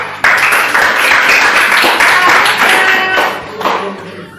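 Applause from a classroom group after a student presentation during an academic supervision session, a steady wash of many hands clapping that carries on throughout at moderate loudness, with faint talk mixed in.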